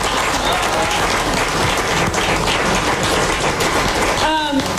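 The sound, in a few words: audience applause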